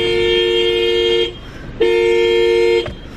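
A car horn blares in two long, loud, steady honks separated by a short gap, close by and with no talking over it.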